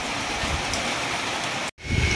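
Heavy rain from Cyclone Montha pours down in a dense, steady hiss, briefly cutting out for an instant before resuming just as loud.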